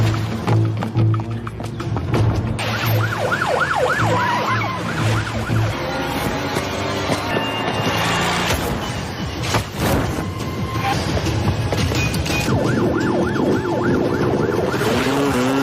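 Wailing police car siren rising and falling in repeated sweeps through a tense chase scene, layered over engine rumble, music and clatter, fading midway then returning strongly toward the end.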